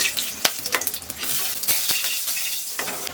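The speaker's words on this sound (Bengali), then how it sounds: "কড়াই গরম হয়ে গেছে, দিয়ে দেবো সরষের তেল, জিরা কটা ভেজে নেব।" Cumin seeds fry in hot mustard oil in a wok with a bright, crackling sizzle, punctuated by sharp spatula clinks against the pan.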